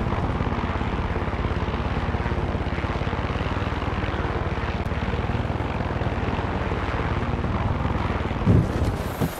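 A helicopter sets down in Far Cry 6, its loud, steady rotor thump and engine drone running continuously throughout, close and alone with no talk.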